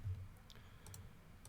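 Typing on a computer keyboard while working in CAD software gives a few faint, soft key clicks scattered over a quiet moment.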